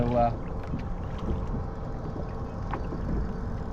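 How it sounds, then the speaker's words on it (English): Steady wind buffets the microphone over constant rushing, lapping choppy sea water while squid fishing from a boat, a rough, continuous outdoor roar with faint knocks. "it's getting windy and choppy"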